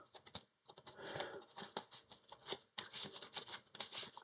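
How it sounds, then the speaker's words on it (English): Marvel Champions cards being shuffled into the encounter deck during a tabletop card game: quick, close, soft riffling and flicking patters in irregular bursts, fairly quiet. "And these get shuffled into the encounter deck."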